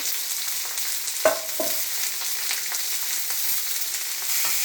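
Sliced onion fries in a pan with a steady, even sizzle, broken by a few brief clinks and scrapes of a spoon stirring.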